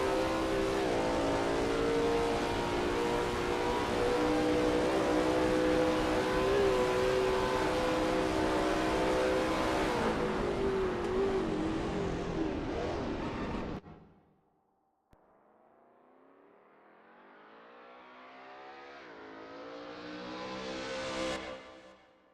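A Lola T70 MkII Spyder race car in a racing game at Spa drones loudly at steady revs, then cuts to near silence before the engine climbs again through a rising, revving pull.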